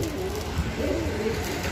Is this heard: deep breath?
no